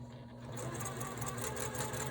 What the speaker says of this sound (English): I am going to stitch around the vine